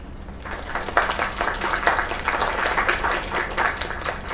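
A crowd applauds steadily in the video game Lake, dense clapping rising and swelling for a few seconds without talk.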